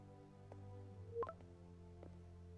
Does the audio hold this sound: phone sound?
yes